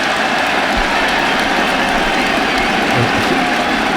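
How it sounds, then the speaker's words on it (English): The crowd at Lord's cricket ground, England v India Test, gives a broad, steady ovation of distant applause for Cheteshwar Pujara, a continuous wash of clapping with no talk over it. "Is that the ovation for reaching double figures?"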